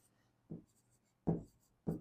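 Three short scratchy strokes of writing on a board or paper during a complex number lesson, spaced apart in a quiet room with faint background hum.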